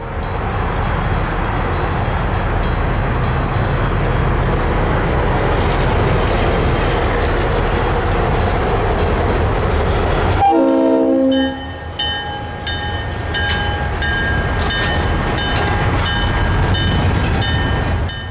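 FEC freight train carrying concrete high and wide loads passing near a Jacksonville drawbridge, a loud steady rumble and rolling clatter, with a train horn sounding in the middle and ringing tones after.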